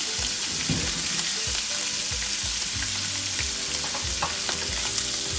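Small ndakala fish fry in salted oil for a Congolese dish, a dense continuous crackling sizzle with scattered spatters and occasional stirring knocks, close and fairly loud, with no voices.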